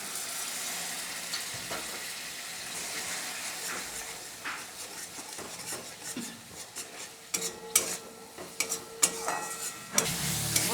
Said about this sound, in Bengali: এবার একটু জল দিয়ে আর একটু কষিয়ে নেব।